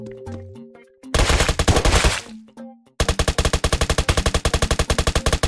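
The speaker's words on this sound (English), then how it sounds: "The dude shooting gunshots somewhere here." Gunfire in the Roblox game Apocalypse Rising 2: after a few scattered game sounds, one dense burst of shots rings out, then a long, loud run of rapid automatic fire in even, fast rhythm.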